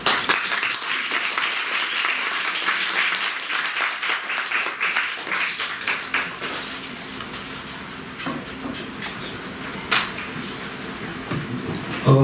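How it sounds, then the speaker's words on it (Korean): A university-talk audience in Boston claps in steady, dense applause that fills the room, continuing throughout with little else over it. "오늘 좋은 말씀 해주신 대표님과 매니저님께 다시 한번 큰 박수 부탁드립니다"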